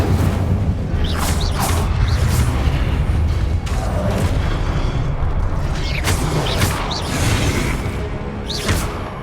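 Incendio fire spell cast in the Hogwarts Legacy video game, loud whooshing bursts of flame with booming impacts and crackling over a dense, continuous combat backdrop.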